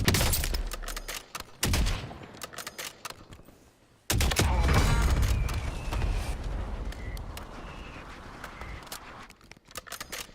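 Assault rifle fire in Call of Duty on the Verdansk map, loud sharp bursts and rapid volleys that fade into lingering battle noise and echoes.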